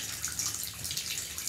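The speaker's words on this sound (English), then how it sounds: "actually I'm going to put on the cold tap" Cold water runs steadily from a tap, a continuous, fairly quiet hiss and splash with no talking.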